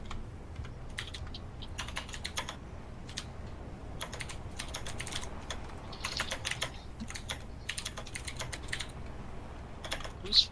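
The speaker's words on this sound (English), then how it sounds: "Who's furiously typing?" Furious typing on a computer keyboard, rapid bursts of keystrokes clattering in irregular clusters throughout, fairly faint over a low room hum.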